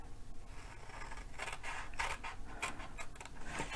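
Scissors snip through cardboard along a score line while a box is being made, a run of quiet crisp cuts and scrapes with irregular rhythm, faint and close, with no speech.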